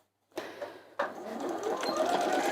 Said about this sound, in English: Let's sew down this side.